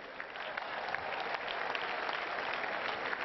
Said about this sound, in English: Shall we clap for Jesus Christ?